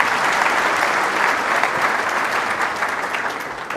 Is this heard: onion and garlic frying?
no